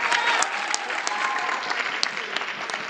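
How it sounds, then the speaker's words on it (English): Guests at a winter sports banquet give a round of applause, a dense burst of many clapping hands with a few sharper claps standing out, steady for a few seconds with faint voices mixed in. "a round of applause for that"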